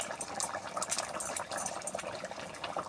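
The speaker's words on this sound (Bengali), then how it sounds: "জল ফুটে গেছে" Water boils in a cooking pot with a dense, close bubbling and popping that stays fairly steady and moderately loud, with no voices over it.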